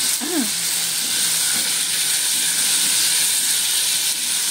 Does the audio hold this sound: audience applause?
no